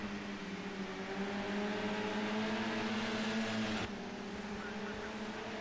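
Modern touring cars race at Imola in a racing video game, a close pack of engines droning and whining steadily with shifting pitch, loud and continuous, under race commentary.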